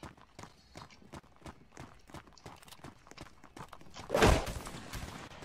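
Horse hooves clatter in a video game, a quick run of rhythmic clip-clop beats at moderate distance, joined near the end by a louder burst of impact noise.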